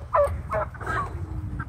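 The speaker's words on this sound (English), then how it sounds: "And there's our turkeys." Turkeys on a homestead gobbling nearby, a few quick bursts of loud, warbling gobbles over a low background rumble.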